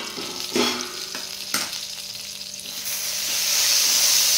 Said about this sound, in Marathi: आता याच्यावर झाकण ठेवून आपण हे वाफवून घ्यायचंय